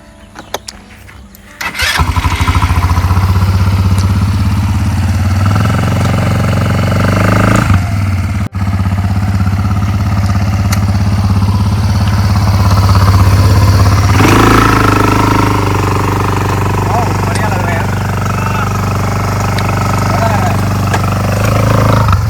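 A resort ride vehicle's engine cranks and catches after a quiet moment, then settles into a loud, steady, close idle that runs to the end with slight swells in revs.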